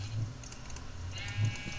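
Sheep in Minecraft give two brief, low bleats, one near the start and one near the end, with light clicking sounds in between.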